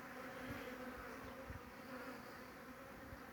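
Bees flying past close by, a faint steady buzzing hum with a few brief louder passes.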